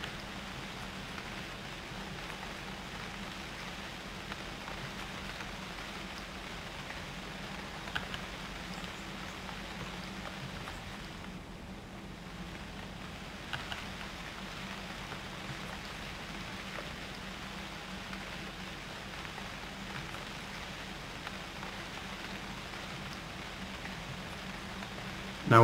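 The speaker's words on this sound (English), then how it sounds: "one of the upsides to rain washing away the tracks" Steady rainfall in the survival game UnReal World, a soft, even hiss of drops on surfaces that continues unbroken, fairly quiet with a few faint ticks.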